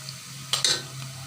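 Browned onions frying in a pan as ground spices go in for a shidol dish, with a steady low sizzle and a couple of brief stirring scrapes near the middle.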